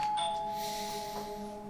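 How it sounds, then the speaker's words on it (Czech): A doorbell rings indoors in a two-tone chime with a short bright strike and sustained ringing tones that decay over under two seconds, fairly close and clear with no talk over it. "A kdo to teda zvoní?"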